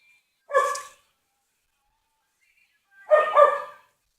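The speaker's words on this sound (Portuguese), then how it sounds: "Vamos ver se esse cachorro para de latir." A dog barks twice nearby, two short separate yaps about two and a half seconds apart against a silent background, with no talking.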